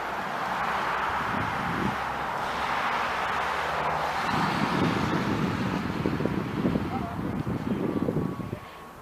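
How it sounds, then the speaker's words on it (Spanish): Cars pass steadily along a road beside a tennis club, heard as broad rumbling traffic with wind noise over the microphone, moderately loud and continuous. "Pasan un montón de coches, como podéis ver."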